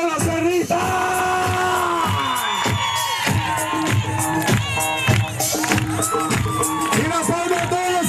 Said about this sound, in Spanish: ¡Las palmas de todos los cerristas!